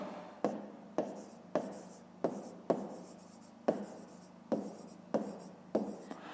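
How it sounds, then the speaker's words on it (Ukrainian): Pen or pencil writing down the answer to a fifth-grade math exercise, a series of about eleven sharp, close scratching strokes and taps on paper, each one trailing off, with quiet room tone between and no talking. "зараз тоді записуємо відповідь"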